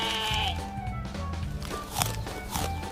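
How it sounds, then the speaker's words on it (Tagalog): A sheep bleats loudly and close on a farm, a wavering nasal cry followed by shorter bleats, with light footsteps and shuffling in the background. "Nag-aalmusal ako kasama ang tupa."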